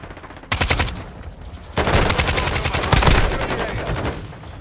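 Rapid gunfire in Modern Warfare 2: two loud bursts of automatic shots, the first short, the second a longer sustained rattle that carries on close and dense with no talking.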